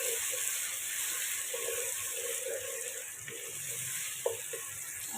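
Onions already browned, now with garlic and ginger paste added, sizzle and fry steadily in a pan for a chicken biryani, a continuous close hiss with a brief sharper clink near the end and no talk.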